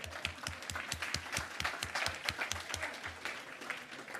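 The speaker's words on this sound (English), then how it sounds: "Another round of applause for you guys." An audience at a city State of the City address applauds, a brief burst of crowd clapping, fairly distant and moderately quiet, with rhythmic heavier claps close by.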